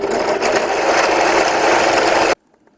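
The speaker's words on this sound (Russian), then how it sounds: "Сейчас будем сверлить." A small power drill whines steadily at high speed as it bores a hole into a metal cable end piece clamped in a vise, running loud and continuous for about two seconds before cutting off abruptly to near silence.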